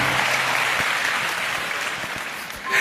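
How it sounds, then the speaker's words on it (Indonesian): A church congregation gathered for a Christmas service applauds warmly, a broad, continuous wash of clapping from a large crowd that swells again at the very end. "Kasih tepuk tangannya paling meriah buat."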